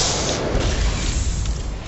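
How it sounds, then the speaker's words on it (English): A Widow Mine blows up in the StarCraft II strategy game, a deep rumbling boom that rolls on for about two seconds with no speech over it. "And now the Widow Mine is destroyed."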